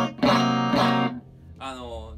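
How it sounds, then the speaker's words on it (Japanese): An electric guitar runs through a deliberately bad amp, giving two buzzing, distorted sustained notes, followed by a short burst of talking. "あのちょっともうダメなアンプをちょっとわざと演出してみました"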